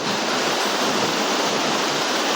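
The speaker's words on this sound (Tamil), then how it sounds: "இங்க பாருங்க எவ்வளவு ஹைட்ல இருந்து இந்த அருவி வந்து கொட்டிட்டு இருக்கு பாருங்க" Kiliyur Falls near Yercaud pours down from a height with a loud, steady roar of rushing water. It is close and constant, with no voices.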